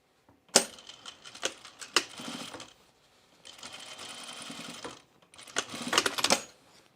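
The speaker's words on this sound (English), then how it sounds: "Understitch the facing, Terry said." A sewing machine understitches the facing of a pullover camp dress in three separate runs of fast, steady stitching, each ending abruptly, with short pauses and light handling clicks between them.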